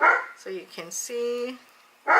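Indoors, a pet dog gives a few short barks and high yips, with a whimpering note in between. A person speaks just before and after the barking.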